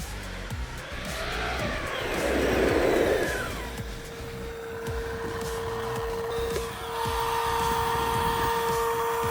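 An Arrma Talion RC car runs at high speed, its electric motor whining loudly and steadily with a surging burst midway, then a sustained high tone, with no talk over it.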